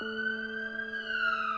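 An ambulance siren sound effect plays as one steady, high electronic wail that drifts slightly in pitch, sustained and fairly quiet with no voices.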